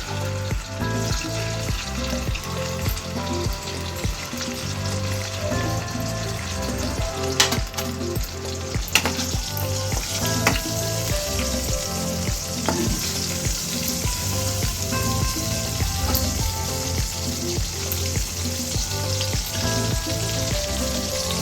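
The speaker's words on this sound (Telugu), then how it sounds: "గుడ్లు వేపుకోవాలి" Eggs fry in oil with turmeric for a Telugu dried fish and egg curry, a steady hiss and crackle with occasional clinks of a utensil against the pan, continuous and close.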